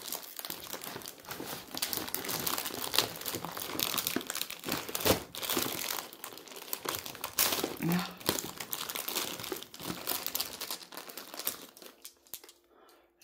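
Plastic wrapping crinkles and rustles continuously at close range as a supplier package of amazonite and amethyst stones is opened, with a brief tearing sound near the end.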